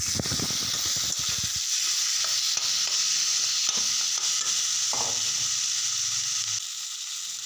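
Fish fries in hot oil with amara tenga (hog plum) and potato paste, giving a loud, continuous sizzle close by, with stirring knocks early on that ease into a steadier hiss.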